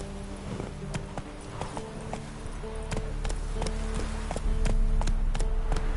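Roach, a horse in The Witcher 3, galloping with a quick regular clip-clop of hooves that grows louder over a low background rumble.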